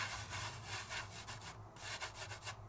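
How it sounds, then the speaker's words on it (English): Foil lightly rubbed over stamped glue on a craft surface, a soft brushing swish repeated in quick strokes close to the ear, gentle and even. "I'm not rubbing hard. I'm just dusting the color"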